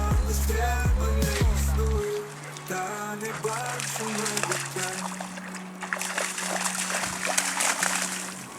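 A dog dunks its whole head into water: splashes and sloshes close by, with trickling and dripping, over a noisy outdoor background; a brief musical tone opens before the splashing.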